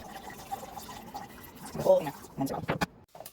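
Hydrogen peroxide poured from a new bottle into a spray bottle in a bathroom, a short trickling pour with faint drips, fairly close, building toward the end.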